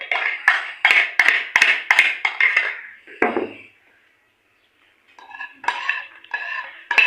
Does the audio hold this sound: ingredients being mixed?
yes